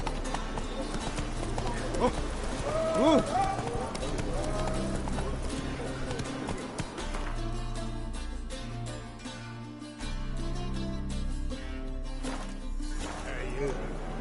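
Roach, the horse in the video game The Witcher 3, gallops in a steady, continuous clip-clop of hooves throughout, with a brief voice near the start and a busy background mix.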